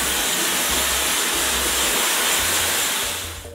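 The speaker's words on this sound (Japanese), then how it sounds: "まずじゃあドライヤーで" A hair dryer blows steadily on a wig to bring it to half-wet before a bob cut, a loud continuous rushing hiss that stays close and unbroken throughout.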